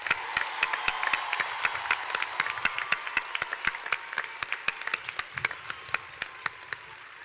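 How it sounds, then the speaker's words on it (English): Sustained applause from a large crowd at the Georgia Southern University spring commencement for the graduates, dense and steady with sharp individual claps standing out near the front before thinning slightly toward the end. "one more round of applause for all of the graduates today"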